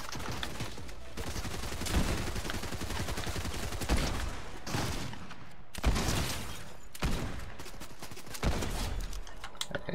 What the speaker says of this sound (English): Someone is shooting on me.